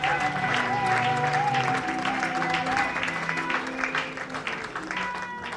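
An audience at an archbishop's investiture ceremony for women leaders bursts into sustained, loud applause and cheering, the clapping dense and steady throughout and tapering slightly toward the end, with voices mixed into the crowd noise.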